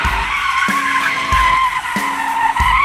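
Tyres of a red, rear-wheel-drive 2004 Holden Monaro V8 skid in loud, sustained screeching, with repeated broadband bursts roughly every 0.6 seconds over a steady high squeal, close and with no voices.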